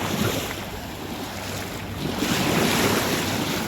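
A calm Kerala sea with small waves during cast-net fishing: a steady wash of gentle surf and water noise mixed with wind buffeting the microphone, continuous and fairly loud, with no voices.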